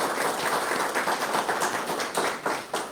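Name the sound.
audience applause for a donation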